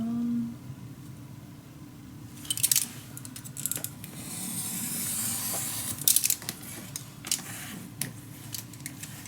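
Scissors cut through paper for a steampunk Christmas craft project, giving a series of crisp snips and rustles with short bursts of sharper cutting noise against a quiet room.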